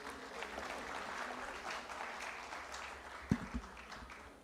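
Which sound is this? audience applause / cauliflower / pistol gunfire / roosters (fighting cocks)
audience applause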